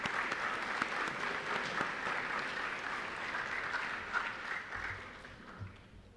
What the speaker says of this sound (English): I think that's a round of applause for our graduating class.